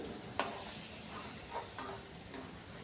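Spiced chicken drumsticks sauté in a pan, a faint, steady sizzle with a few soft clinks and scrapes of stirring, quiet and close.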